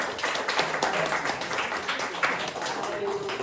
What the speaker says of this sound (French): Applaudissements pour Vincent, s'il vous plaît.